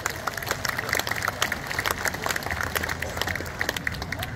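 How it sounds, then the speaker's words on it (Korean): An outdoor crowd at the closing ceremony of the Miryang Arirang festival in Korea gives a sustained round of applause for the volunteers. The clapping is dense and steady, with faint crowd noise underneath. "이렇게 고생하신 분들께 여러분 큰 박수 한번 주시기 바랍니다"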